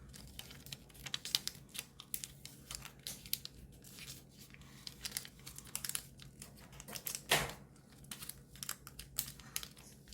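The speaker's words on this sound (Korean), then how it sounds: "뒤집어서 똑같이 한 번 더 가운데에 맞춰서 접어줍니다" Paper being folded for an origami ninja spinning top, with dense crinkling and rustling, sharp creasing snaps and one louder crumple near the end, close up and with no voices.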